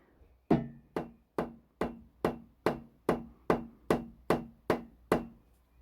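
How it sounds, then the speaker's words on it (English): A steady run of twelve dull, solid knocks, a rubber mallet striking the end of an LS engine crankshaft, close and evenly paced, each strike dying away quickly before the next. "So rubber hammer, smack the end of the crank a couple times."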